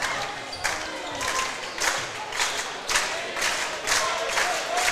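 Crowd at a high school basketball game in Lake Mills, a continuous roar of voices with surging cheers rising and falling in waves, fairly distant in a gym.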